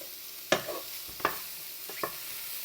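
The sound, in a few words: garlic sizzling and being stirred in a hot pan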